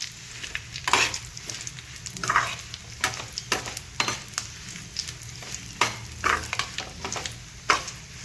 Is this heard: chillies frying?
yes